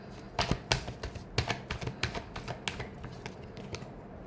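Tarot cards are shuffled in a rapid series of crisp riffling snaps and taps, close by and fairly quiet, with no talking over them.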